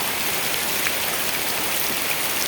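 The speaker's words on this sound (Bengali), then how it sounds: "তাহলে কি পরিমাণ বৃষ্টি হচ্ছে গাজীপুরা" Heavy rain pours down steadily during flooding in Gazipur, a dense, even hiss of drops with no let-up and no voices.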